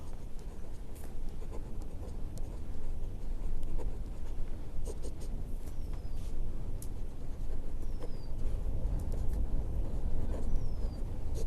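A pen writes out a maths solution on paper, with continuous faint scratching and short strokes that run steadily throughout under a low background hum.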